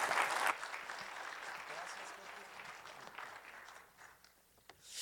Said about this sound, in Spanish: vamos a recibirlo con un cariñoso aplauso